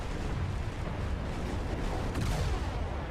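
Destroyer guns fire in a War Thunder naval battle, producing a dense, continuous booming rumble of shots and blasts, loud and close throughout.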